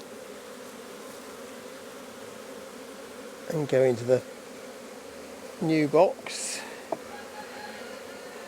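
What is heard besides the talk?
honey bees buzzing as frame is shaken into new box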